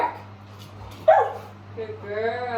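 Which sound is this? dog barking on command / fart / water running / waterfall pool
dog barking on command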